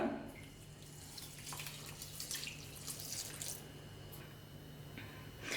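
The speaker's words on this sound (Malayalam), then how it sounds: "ഇനി ഞാൻ ഇതിലേക്ക് 1 കപ്പ് വെള്ളം ആഡ് ചെയ്ത് കൊടുക്കുകയാണ്." One cup of water goes into a pan of whole gooseberries (amla) for a sweet murabba, giving a faint, close trickle and splashing with a few soft drips in an otherwise quiet kitchen.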